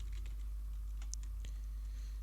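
Faint, sparse typing of C++ code on a computer keyboard, a few scattered light key clicks over a low steady hum.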